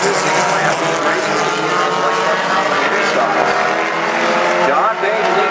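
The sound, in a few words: mini stock race cars racing at speedway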